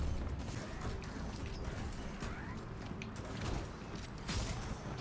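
A door creaking and grinding open in the video game Gears of War 4, a dense mechanical scrape with ratcheting clanks running steadily throughout, fairly loud with no talk.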